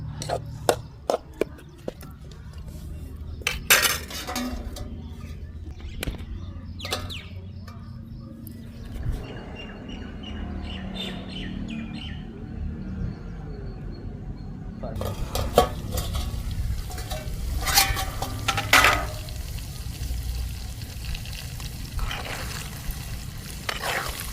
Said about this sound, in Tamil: லைட்டாக கிண்டி விட்டு இதுக்கு மேலே கொஞ்ச நேரம் வந்து மூடி போட்டு விடணும்